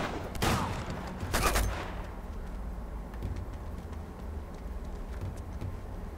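Gunshots in Uncharted 2, where two loud, sharp shots ring out close together, separated by about a second, each trailing into echo, over a low steady background rumble.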